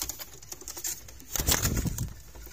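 Pigeon shifting and flapping inside its coop where a hen has just hatched chicks, with soft patter and scratching building to a brief louder burst of wing and body movement, close by.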